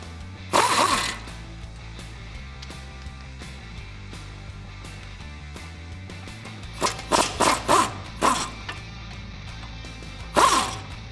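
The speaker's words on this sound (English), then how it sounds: "I'm gonna use a 19mm socket and a swivel socket along with my air gun to pop this bolt off" Air impact gun on a 19mm socket with a swivel, removing brake caliper bolts on a 2004-2014 Ford F-150, giving short loud bursts: one early, a rapid cluster later, and a final burst.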